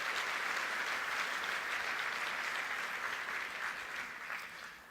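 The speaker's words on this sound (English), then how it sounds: "let's give a round of applause to Epson, Honeywell, and Zebra for sponsoring that event" An audience at a conference general session gives a round of applause to the sponsors Epson, Honeywell and Zebra; the clapping is soft and distant, holding steady before gradually fading near the end.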